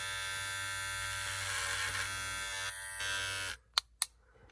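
Electric hair clipper (model HC 3043) buzzing steadily as it cuts hair, a sustained close motorized drone for over three seconds that then cuts off, followed by two brief sharp clicks.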